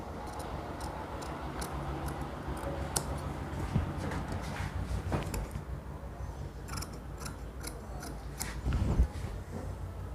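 Scissors snip through fabric while a fatua garment for an elderly man is cut out, producing a run of small crisp clicks and cuts over a steady background hum, without speech.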